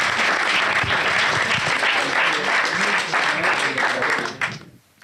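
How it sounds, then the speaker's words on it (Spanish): Sustained, dense audience applause fills the space, loud and even throughout, then thins out and fades away in the final moment. "Un aplauso, es muy bueno."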